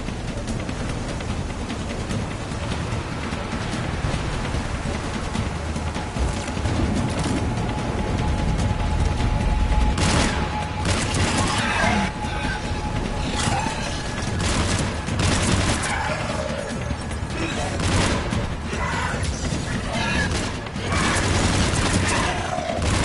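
Gunfire from the video game Mass Effect 3 rattles out in loud, rapid bursts of shots over a steady mechanical game ambience, growing denser in the second half, with no talking.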